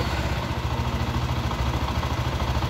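A Zontes 155 U motorcycle engine, started electrically, idles steadily with a fast, even chugging rumble, close by and continuous throughout.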